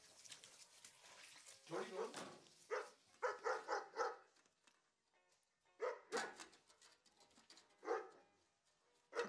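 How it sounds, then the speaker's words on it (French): A dog barks in a building hallway, in irregular bursts of fairly faint, somewhat muffled yaps and woofs spread across several seconds, with quiet gaps between them. "Un peu plus tard, Anna entend à nouveau le chien et du bruit"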